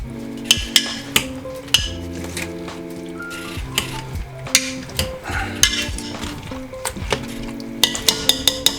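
Butternut squash soup ingredients being smashed together in a cooking pot while it boils, with repeated sharp utensil clanks and clinks against the metal pot in an uneven rhythm, close and loud, with no talking.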